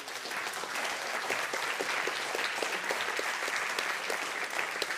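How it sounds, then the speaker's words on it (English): A room full of audience members claps steadily and evenly throughout, a dense, sustained wash of applause at a lecture-style talk with no single voice standing out. "Let's give them a round of applause."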